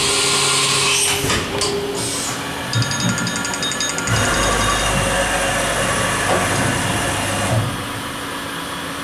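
A Haas VF-3SS CNC mill hums and whines steadily as its spindle runs slowly while drilling holes, with tonal machine drone, a shift in pitch partway through and a loud, continuous mechanical bed of sound.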